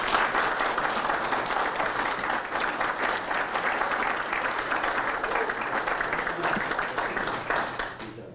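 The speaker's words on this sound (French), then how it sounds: "j'aimerais qu'on applaudisse tous les 4 candidats" An audience applauds the four candidates at the close of a provincial election debate in the riding of Berthier, a full, sustained round of clapping that tapers off at the end.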